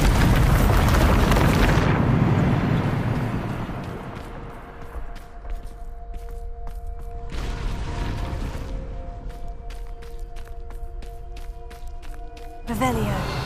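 Bombarda spell explosion in the video game Hogwarts Legacy, a loud booming blast at the start that rumbles and fades, followed by lighter magical effects, tonal ringing and a second burst at the end.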